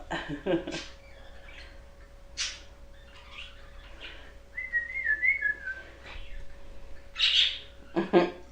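Several pet birds in a cage chirp and whistle in short scattered bursts, some purring trills among brighter tweets, close and fairly loud in a quiet indoor room.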